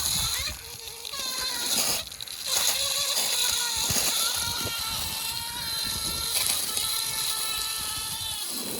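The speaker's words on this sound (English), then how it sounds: "Nice heavy stream on there so it can really push that water into the fabric." A heavy stream of water sprays onto Under Armour Expanse mid waterproof boots, making a loud, continuous splashing and spattering close by that shifts as the flow moves. Someone talks over it.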